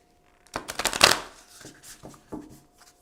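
Oracle cards are shuffled in a brief, close flurry of crisp riffling and slapping, followed by a few softer taps as the deck settles.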